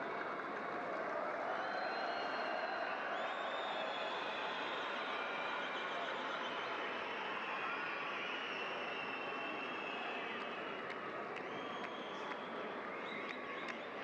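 Dense, steady roar of a stadium crowd at an Asian Champions League group match between Al Wehdat of Jordan and Al Faisaly of Saudi Arabia, vociferous supporters chanting and cheering continuously with no break.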